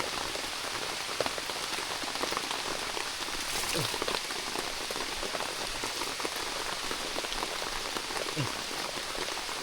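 Heavy nighttime rain pounds a bamboo hut in a steady, dense roar of drumming drops, loud and constant throughout, with only faint scattered sounds beneath and no speech.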